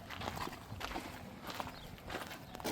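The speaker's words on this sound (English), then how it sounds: "Samson's a Tennessee walking horse." A Tennessee walking horse's hooves clip-clop at an easy walk on a rescue ranch, moderately close and soft, with faint outdoor ambience and no talking over them.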